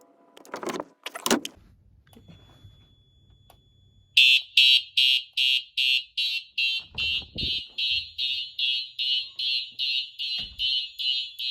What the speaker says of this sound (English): there is a bit of a delay between the strobes going off and the horns going off